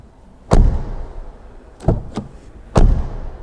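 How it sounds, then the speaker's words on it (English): A 2024 Audi A3 facelift's driver's door shutting, heard as three separate solid thumps with quiet gaps between them, close and fairly loud. "listen to the driver's doors sound."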